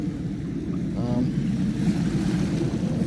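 Ocean waves wash steadily against a rocky Whidbey Island shore, a continuous broadband surge with wind buffeting the microphone throughout.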